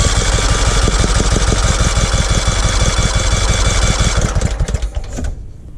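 A riding mower's small engine cranked with the choke on, a loud, rapid, rhythmic chugging and whirring that runs steadily for several seconds close up, then stutters and cuts off abruptly into near silence.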